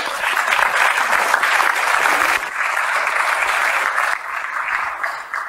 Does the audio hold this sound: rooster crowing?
no